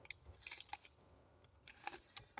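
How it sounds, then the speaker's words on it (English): Crinkly rustling and sharp tearing clicks of a tea packet being opened by hand on a kitchen counter, faint and close, in scattered short bursts with no talk. "Opening up my tea packet."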